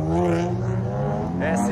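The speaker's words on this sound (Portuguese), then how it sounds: "Vamos ver a SF90 acelerando hoje." Ferrari SF90 sports car accelerating on the road, a loud, close, rising engine tone with layered harmonics that holds steady and climbs again near the end.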